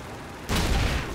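Automatic gunfire in Call of Duty 2's Russian front, a loud burst of battle noise erupting halfway through after quieter ambient rumble, with booms mixed in.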